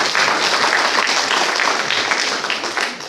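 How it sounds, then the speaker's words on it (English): An audience at a moot court competition's valedictory ceremony breaks into a big round of applause, with loud, dense, continuous clapping that tapers slightly toward the end. "So, let's give a big round of applause."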